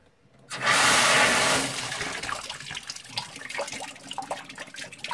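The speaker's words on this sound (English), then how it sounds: "Go ahead and drain it." Water gushes loudly from a drained screen sediment filter housing in a plumbing system, starting abruptly, then easing into a steadier splashing trickle with small drips and gurgles.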